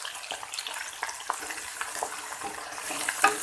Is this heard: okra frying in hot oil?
yes